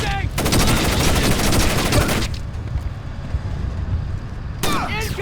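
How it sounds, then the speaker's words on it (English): Rapid automatic gunfire in the stealth video game Splinter Cell: Chaos Theory, a loud sustained burst of shots that cuts off, leaving a quieter stretch before more firing and voices return. "Incoming fire!"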